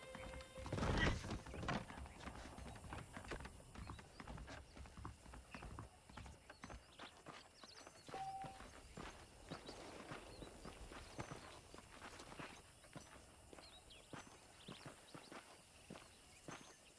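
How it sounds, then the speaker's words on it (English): Saddled horses in the Red Dead Redemption video game, with steady hoof clip-clop and footsteps throughout, a loud whinny near the start, and faint mechanical clicks of tack under the game's ambient sound. "The horses are saddled up over here."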